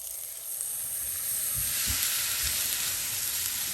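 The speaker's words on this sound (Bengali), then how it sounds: "এখন আমি একটু দুধ দিয়ে দেব।" Milk is poured into a pan of fried chicken filling for pasta, sending up a steady, close hiss of sizzling steam that swells and holds, with a few low knocks beneath.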